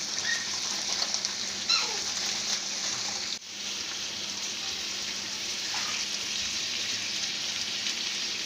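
Onions frying in a pan with their raw moisture cooking off, a steady soft sizzle holding at an even level for the whole stretch, with no voices over it.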